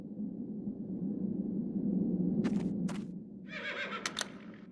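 Horses neigh and whinny inside a stable in a video game, over a steady low ambient hum, with a couple of sharp bright bursts partway through and a longer whinny near the end.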